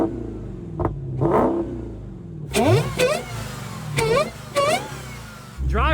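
A modified Nissan GT-R carrying about $20,000 in mods fires up and settles, then is blipped through several sharp rising revs that fall away, fairly close and moderately loud, ending on a low rumble.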